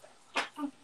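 A single short sneeze from a person at a live toy-fair broadcast, a sharp burst followed by a brief voiced tail, close and fairly loud against a quiet background.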